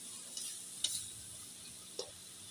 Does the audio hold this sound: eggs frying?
yes